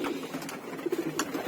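Domestic pigeons in a loft coo softly and repeatedly while being fed maize, a close, low murmuring with a few brief louder calls.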